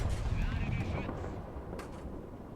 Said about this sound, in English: once again we're going to fire 5 shots